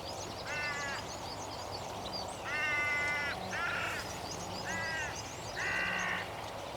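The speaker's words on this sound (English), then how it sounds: "a crow finally takes an interest in the decoy setup." A hooded crow gives five bursts of harsh, ringing caws, each a quick run of repeated notes with short gaps between, fairly near and clear over a steady outdoor hum, beside a crow decoy setup.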